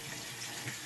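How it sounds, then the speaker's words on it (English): Tap water runs steadily into a sink while a Rockwell 6C safety razor is rinsed under it, a short, close, even wash of water with no talking. "I'm going to rinse this off"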